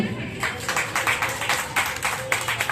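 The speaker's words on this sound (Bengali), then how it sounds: "ওকে সংবর্ধনা জানানো হচ্ছে, সবাই হাততালি দিন" Audience clapping in rhythmic bursts at a spring festival felicitation by a local club, steady repeated claps under a faint background murmur.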